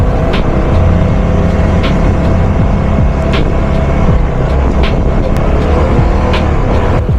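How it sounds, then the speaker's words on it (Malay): An NK Lite 250 motorcycle with its stock exhaust rumbles steadily and fairly loudly at low, relaxed revs while riding, mixed with continuous road and wind noise and no talk. "Korang boleh dengar kan bunyi exhaust dia tu, slow je."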